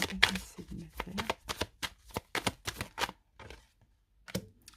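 Tarot cards are shuffled and slapped down on a table in a quick run of crisp riffles and flicks, close and fairly quiet, tapering off into a few sparse taps.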